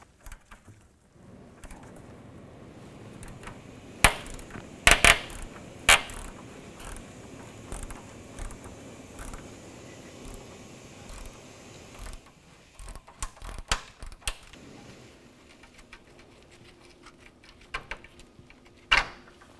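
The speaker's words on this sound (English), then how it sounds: "Get a socket on there." A socket wrench ratchets on a rusted bolt on a 2001–2007 Volvo V70, giving faint, uneven clicking and creaking with a few sharper metallic snaps scattered through.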